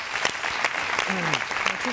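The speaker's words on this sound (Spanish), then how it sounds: "Le damos un aplauso." Studio audience applause in a Spanish TV show, dense steady clapping throughout at moderate loudness with a voice briefly heard over it.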